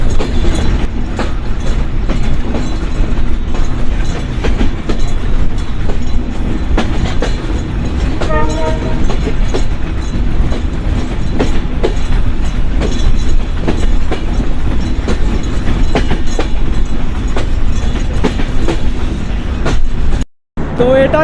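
A train travelling from Pakshi toward Khulna in Bangladesh rumbles loudly and continuously from onboard, with rhythmic clickety-clack of the wheels, a brief horn-like tone in the middle, and a momentary dropout near the end.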